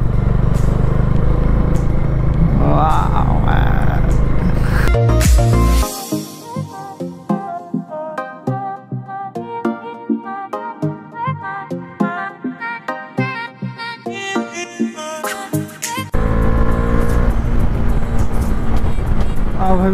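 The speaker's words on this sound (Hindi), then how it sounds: "अब अभी बस बाइक का साउंड का मजा लीजिए आप लोग।" Four Bajaj Dominar motorcycles ride a rain-soaked mountain road in North Sikkim during the monsoon, with a loud, close engine roar that rises and falls with shifting throttle throughout.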